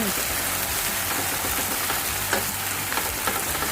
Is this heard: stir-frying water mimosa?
yes